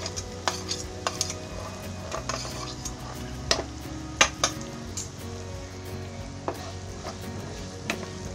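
Onions sizzling as they sauté in a pan for tofu bhurji, with a steady fry under scattered scrapes and clinks of a spatula against the pan, and a few sharper knocks.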